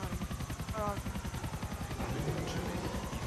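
A helicopter in the video game GTA IV gives off a steady, pulsing rotor chop with a rhythmic low thump throughout, with a brief tonal blip in the middle.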